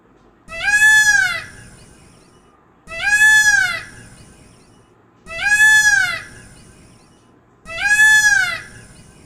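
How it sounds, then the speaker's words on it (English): Peacock calling in four loud, evenly spaced wailing cries, each a rising-falling harmonic-rich call about a second long, separated by quiet gaps. "Peacock, peacock."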